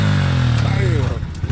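A dirt bike engine on the El Mirage dry lake bed, held on the clutch and revved hard. It is close and loud, with a steady roar that rises and wavers, mixed with voices.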